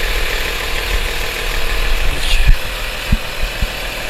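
A BMW M3 E36 engine idling with a steady low rumble, loud and close, with a few short knocks and clunks near the end.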